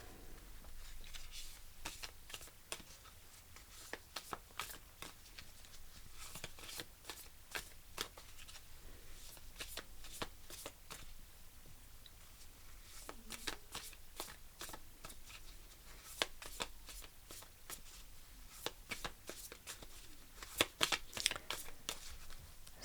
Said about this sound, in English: Let's pull you a guardian angel card.